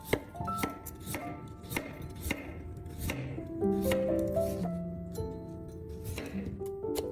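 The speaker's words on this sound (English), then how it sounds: "Next, chop the carrot into bite-sized chunks." A knife chops a carrot into chunks on a cutting board, crisp sharp strikes at an irregular steady pace, close and clear, with soft background music beneath.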